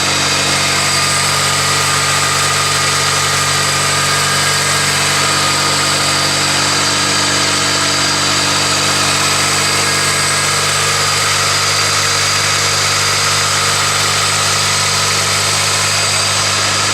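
A car's 1.8 liter four-cylinder engine idles on a cold start, a loud, steady, close drone with an even hum and no change in pitch throughout.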